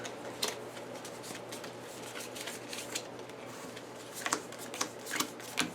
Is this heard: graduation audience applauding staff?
no